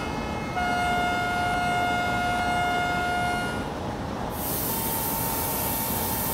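A WAP7 electric locomotive in a broad gauge train simulator game gives a steady loud tonal whine and hum with a constant rushing drone, the pitch shifting midway as the noise brightens.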